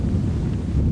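Strong wind buffeting the microphone beside a fishing lake in winter, a steady low rumbling gust filling the short moment without other sounds.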